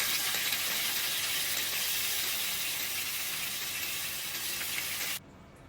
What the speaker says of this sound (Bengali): প্যানে তেল দিয়ে গরম হয়ে এলে মাছগুলো ভেজে নিই।